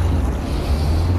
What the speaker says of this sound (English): Oh, that's pretty deep. Lots of revs, Andy.